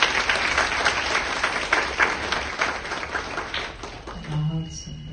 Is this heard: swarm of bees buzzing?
no